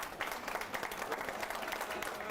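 An audience applauds a school board at a county schools address: dense, continuous clapping from a crowd, fairly close, filling the whole stretch with a voice heard over it.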